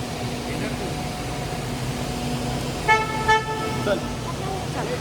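In a parking area, a parked car answers its remote key with short horn toots, three brief chirps about half a second apart, heard over a steady background hum of the surroundings.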